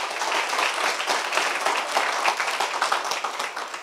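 A room of coaching workshop participants clapping for themselves, a bright, busy patter of many hands at moderate volume, fairly even with slight swells, and no talking over it.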